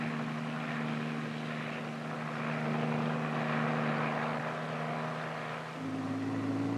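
A tandem-rotor H-21 Workhorse helicopter flies with a steady droning engine and rotor hum, strong low tonal lines holding evenly and shifting slightly in pitch near the end, with no other sound over it.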